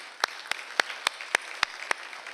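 A church congregation clapping at a Sunday service, heard as about seven sharp, evenly spaced claps rising from a quiet room, crisp and close rather than a full roar of applause.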